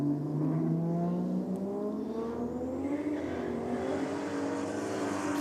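A drag racing car makes a strong pass down a roll drags strip, its engine droning loud and steady with rising harmonics as it accelerates away for several seconds, no talk over it.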